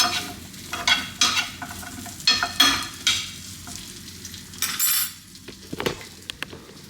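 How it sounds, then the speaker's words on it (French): Potato wedges frying in a pan, a close sizzle broken by repeated scraping stirs and a few light clinks of a utensil against the pan. "je suis en train de faire des potatoes avec une poêle"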